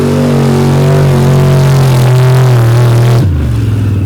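A mud-racing truck engine revs loud and close off the starting line, a sustained harmonic roar with slowly sliding pitch that drops abruptly near the end, with no talk over it.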